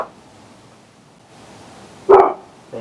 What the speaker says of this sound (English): Thank you, dog, for ruining my shot.